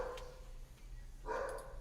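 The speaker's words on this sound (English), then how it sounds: "What are you barking at?" A dog barks twice at a moderate distance, one short bark early and a stronger, fuller bark near the end, over a low steady indoor hum.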